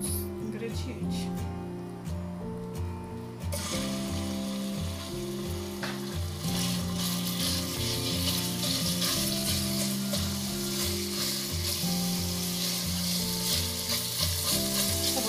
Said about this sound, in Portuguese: nós vamos começar a fritar a linguiça